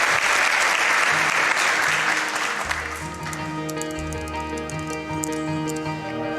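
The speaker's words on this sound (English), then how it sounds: "maybe the crowd could cheer for us" Crowd applause and cheering at a speedrun marathon event, loud and broadband at first, then thinning out as steady music and tones take over beneath it.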